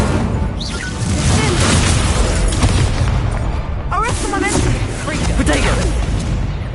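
A fire spell cast in Hogwarts Legacy bursts with continuous booming, crackling combat effects amid a dense battle, loud throughout with rising whooshes near the middle and end, and a voice shouting over it.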